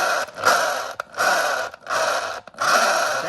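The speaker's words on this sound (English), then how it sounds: "And here's your friction drive." Whirring, grinding friction drive bolted under a plastic wind-up toy, running in four loud bursts separated by short pauses, close and unaccompanied by voices.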